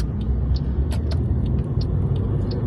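A big lorry rolls through a roundabout in traffic, its heavy low engine rumble steady and close, with brief higher hisses and clatters above it.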